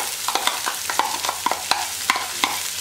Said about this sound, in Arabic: هكدا لازم يتقلى ليه مليح باش نبدا نضيف